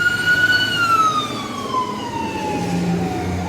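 Emergency vehicle siren from first responders passing by, a loud wailing tone that glides steadily downward in pitch as it recedes, with a low engine rumble beneath.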